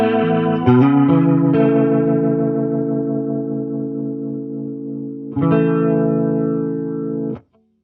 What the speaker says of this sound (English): this is set to a Leslie sound.